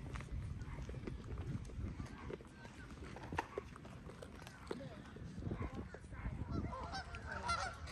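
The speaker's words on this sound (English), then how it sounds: "So what are these birds doing?" A group of geese honks in scattered bursts outdoors in Old New Castle, Delaware, mixed with footsteps and movement, fairly faint against background noise.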